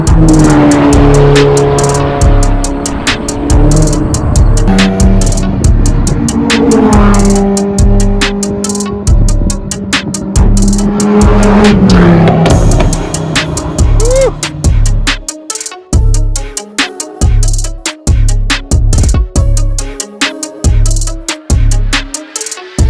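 An Alfa Romeo 4C lapping a race track, its engine loud and close as it revs hard through gears, with tire squeal, then a choppier stretch of sharp throttle blips and lifts toward the end.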